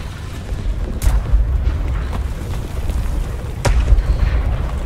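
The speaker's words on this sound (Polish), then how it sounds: "Strzał artyleryjski" Deep booming artillery shots from a Tiger II H tank in War Thunder, a couple of heavy thuds about a second apart over low rumbling background.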